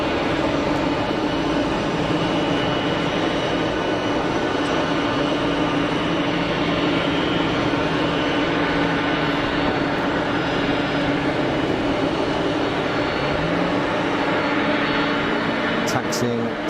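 A Delta Boeing 767-300 taxis at Geneva Airport, its engines giving a steady, continuous whine and low rumble that holds at an even level from start to finish.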